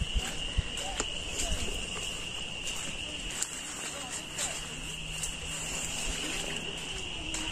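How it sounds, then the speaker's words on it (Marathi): Crickets chirp in a rice field during paddy transplanting in a village, a steady high shrill trill running throughout at moderate level beneath faint outdoor noise and occasional voices. "रातकिड्यांचा आवाज येतोय यार"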